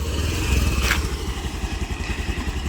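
A Pulsar motorcycle engine idles and runs at close range outdoors in a hilly scenic area, with a steady low, throbbing rumble and a light clatter and no talk.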